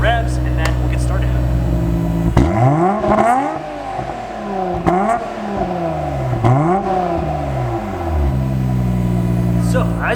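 A Nissan Skyline R33 GTR on its stock exhaust idling, then revved several times, each rise and fall of the engine note clearly swept, loud and close over a steady idle.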